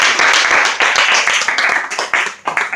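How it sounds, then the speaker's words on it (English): Close, loud audience clapping at a Dublin gathering, a dense continuous patter of hand claps filling the whole short stretch without letup. "Let's give another round of applause for Lisa."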